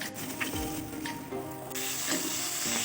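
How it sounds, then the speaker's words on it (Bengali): A ground spice paste of cumin, chili and ginger frying in a pan for Bengali dhokar dalna, a soft, close sizzle with stirring scrapes and clinks, growing slightly brighter partway through. "মশলাটাকে ভালো করে কষিয়ে নিতে হবে।"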